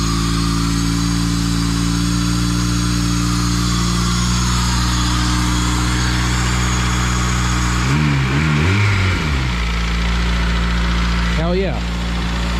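A Honda K20-swapped Civic wagon running with no intake fitted, a loud steady idle with harmonic drone, briefly disturbed by short throttle blips partway through.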